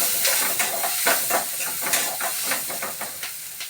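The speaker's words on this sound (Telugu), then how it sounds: "ఇందులో మళ్ళీ నేను కొంచెం ఫ్రై అవ్వడానికి వేస్తున్నా." Onion and green chillies frying in oil in a pan, a fairly loud crackling hiss broken by repeated stirring scrapes and clatters over a few seconds.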